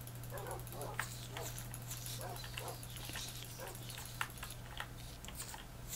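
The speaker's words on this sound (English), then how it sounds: "I need more dogs here." Tamed dogs in the Minecraft video game, fighting silverfish, give a series of short barks and whimpers at moderate level, set against a steady electrical hum with keyboard clicking throughout.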